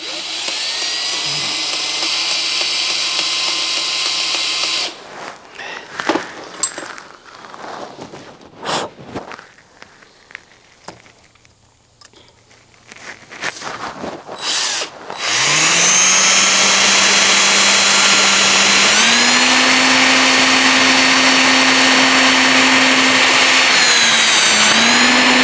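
An 80-year-old electric motor running steadily, its loud whine and hum stepping upward in pitch as it speeds up, with rattling handling noises in between before it settles into a sustained drone.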